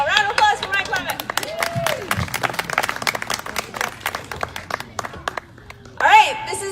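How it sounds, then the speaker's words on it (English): A concert crowd at a summer show claps and cheers in a lively burst of applause, with scattered hoots and voices mixed in. "so a round of applause for Mike Leavitt."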